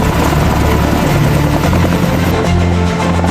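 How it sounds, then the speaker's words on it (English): Helicopter lifting off, with a loud, dense rotor roar and steady thumping filling the whole short stretch, close by and unbroken. "The helicopter lifts off, leaving the battle behind."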